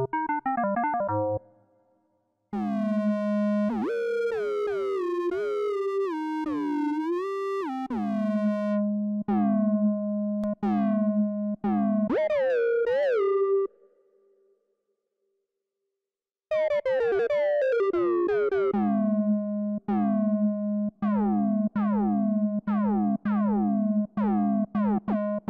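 Behringer Odyssey synthesizer fed by a digital oscillator source plays bright, pitched tones: sustained notes and quick stepping arpeggio runs with short pitch chirps, two gaps of silence between phrases, and no talk.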